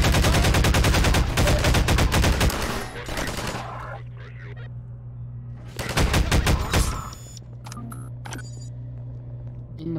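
Automatic turret fire in Half-Life 2: two loud, rapid bursts of machine-gun shots, one at the start and another a few seconds later, separated by a quieter stretch with a steady low hum.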